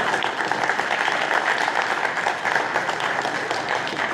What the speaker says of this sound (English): Can we get a round of applause for our court reporter?